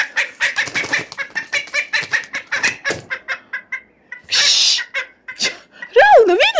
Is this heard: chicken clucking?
yes